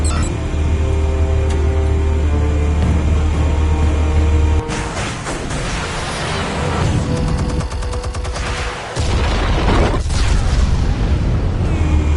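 Explosives detonate in Batman: The Telltale Series video game, heavy booms and crackling blasts breaking over a loud low rumble, with several sharp bursts in the second half.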